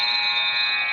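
A basketball game-ending buzzer sounds as a steady, loud electronic tone held for about a second without a break.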